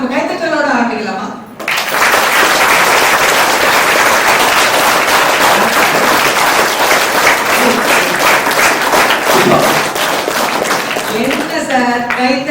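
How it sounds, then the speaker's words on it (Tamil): A group claps hands steadily and loudly in unison at a laughter yoga session, a sustained dense patter lasting about ten seconds, with brief voices before and after. "நம்ம கைத்தட்டலோட ஆரம்பிக்கலாமா?"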